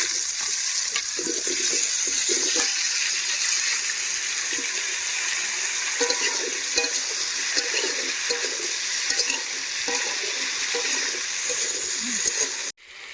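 Taro and potatoes added to a pan of browned onions fry with a steady, close sizzle, with occasional clatter of stirring throughout and a sudden cut near the end; no talk.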